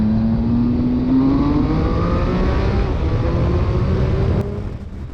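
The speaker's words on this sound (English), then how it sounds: "I just want to accelerate again." A 2020 Triumph Speed Triple RS motorcycle accelerates with a loud steady engine roar and a rising whine, no talking, easing off near the end.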